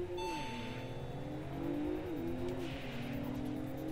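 A white Toyota Supra's engine revs in a racing video game, pitch climbing through gears with audible shift drops, a steady loud drone accompanied by faint tire noise.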